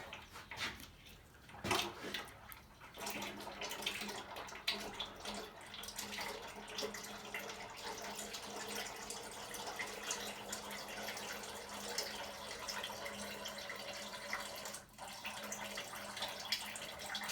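Water runs steadily in a shop, a broad continuous rush with a low hum beneath it, loud and unbroken after an opening clunk and splash.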